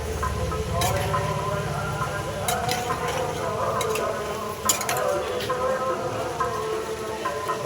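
A chana paneer curry with beaten yogurt is stirred in a pan: a spoon scrapes and clinks against the metal over a soft sizzle, with faint background voices.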